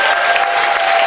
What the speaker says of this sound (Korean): 여러분 다시 한번 경례의 박수 한번 주십시오.